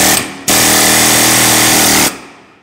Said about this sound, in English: you're going to put the air hammer on it